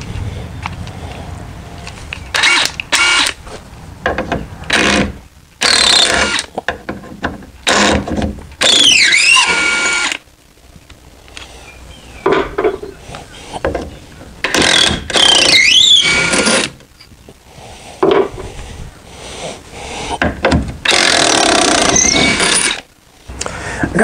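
A power tool fitted with black impact sockets runs in repeated loud bursts with whirring, squealing and ratcheting while working on a deck ramp railing, separated by short quiet gaps.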